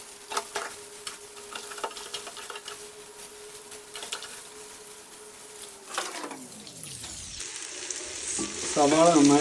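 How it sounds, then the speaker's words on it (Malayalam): Onions sautéing in a pan for chicken curry, cooked until brownish: a steady close sizzle with soft stirring scrapes, then a sharp change near the end as the sound brightens. "സവാള നന്നായിട്ട് വഴറ്റണം. ഒരു ബ്രൗണിഷ് കളറാവുന്ന വരെ നമുക്ക് വഴറ്റണം."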